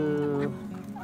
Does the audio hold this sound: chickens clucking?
yes